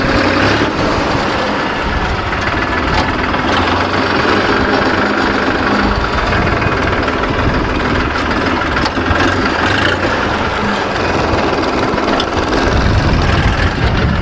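A 50 hp 9500 E tractor engine runs steadily nearby, a loud, constant diesel rumble with a throbbing low idle that holds unchanged throughout.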